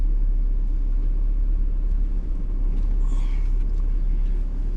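A four-wheel-drive vehicle crawls along the Fins 'N' Things off-road trail, its engine giving a steady, loud, close low rumble throughout with no voices.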